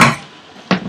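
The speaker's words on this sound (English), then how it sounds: "just carefully mix these so that they all marry together along with the spices and the tomato coarse pastes" Green beans tossed with spices and tomato paste in a pan for an Indian-style dish, with a clatter of utensil against cookware at the start and two more sharp knocks near the end, quiet stirring in between.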